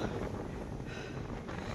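Strong wind buffeting a microphone on a hilltop climb at Kondarangi near Dindigul, a steady low rushing roar with slight gusting swells, close and loud, no voices.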